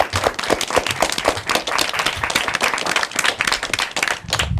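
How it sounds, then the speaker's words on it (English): A studio audience claps after an elementary school academic quiz match, a loud, dense burst of individual hand claps close by that carries steadily throughout. "Let me hear a big round of applause."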